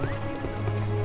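Horse hooves clip-clopping in a short, steady burst behind a fantasy adventure game scene, heard alone without talk over a tonal musical backdrop.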